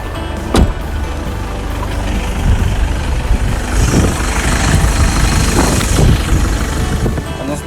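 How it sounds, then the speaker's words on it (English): A car engine idles with odd, irregular noises coming from it, a low steady rumble broken by sharp knocks and a rising whine, close by and with no talking. "'ll surely check it out before calling Kate, seeing what's wrong with this car, because it's making some weird sounds"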